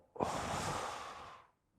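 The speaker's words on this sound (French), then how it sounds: "Une respiration." A single deep exhalation, close and breathy, starting abruptly, then holding steady for over a second before cutting off into quiet, no words spoken.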